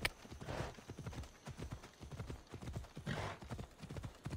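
A horse in the video game Assassin's Creed Odyssey clip-clops along in a steady rhythmic gait, hooves close and distinct, with brief louder swells of game ambience.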